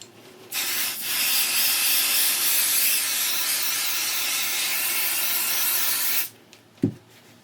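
Spray N Bond basting adhesive is sprayed from an aerosol can onto a quilt in one long, steady, close hiss of about six seconds, followed by a short quiet spell and a brief dull thump.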